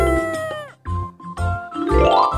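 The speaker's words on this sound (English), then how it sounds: "Mr. Rooster crows to wake everyone up at day" Cartoon rooster crowing in the Baby Panda World mobile game: a bright, stretched call with bouncing musical game chimes around it, repeating in short bursts, loud and close, with no talk.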